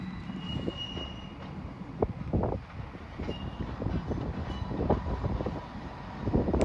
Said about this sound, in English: Train coming in, obviously.